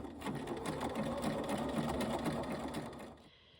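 A sewing machine runs a zigzag stitch across a ribbon skirt waistband, a quick rhythmic whirring and needle ticking at close range that keeps on for a few seconds, then slows and stops at the end.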